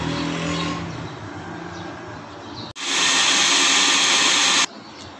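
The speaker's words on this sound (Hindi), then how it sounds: "अब मैं इसको ना ग्राइंडर कर लेती हूँ, इसको ग्राइंडर करके इसमें ऐड करूँगी।" An electric kitchen grinder whirs loudly as it grinds ingredients for chicken karahi, a steady high-pitched motor roar that starts abruptly, runs about two seconds and cuts off, following a lower mechanical drone.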